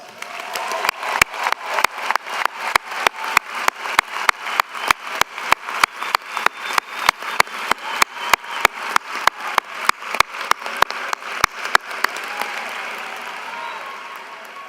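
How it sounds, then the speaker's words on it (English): Audience applause at a university commencement ceremony rises into sustained clapping across a large venue, with a steady wash of hands and regular sharp beats running through it, continuing at length before easing off near the end. "graduates, let's please show our appreciation to them with a resounding applause"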